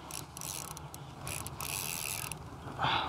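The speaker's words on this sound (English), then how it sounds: "Loosen up the drag a bit so I don't test any knots too much." A fishing reel's drag on ultralight tackle clicks rapidly as line pulls out from a kayak, a fine ratcheting whir that swells near the end, with no voices.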